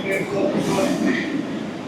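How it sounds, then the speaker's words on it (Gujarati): An old-style New York City subway station, with a train rumbling and screeching nearby under continuous crowd noise and voices, giving a dense, loud rail ambience throughout. "જોઈ લો મેટ્રો સ્ટેશન જૂના જમાનાનું હોય ને એવું લાગે છે"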